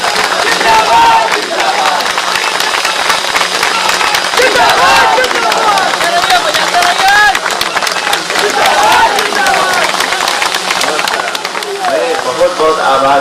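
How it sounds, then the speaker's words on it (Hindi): A crowd loudly applauds to welcome the chief guest at a gathering, dense and sustained clapping throughout, mixed with voices talking over it. "जोरदार तालियां तब तक बजती रहे जब तक हमारे मुख्य अतिथि महोदय अपने मुखारबिंदु से स्वागत शब्द हमारे लिए करेंगे नहीं"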